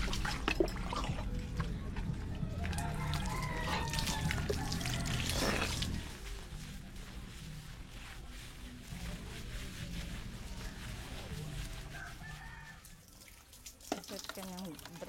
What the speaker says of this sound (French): Va prendre ta douche.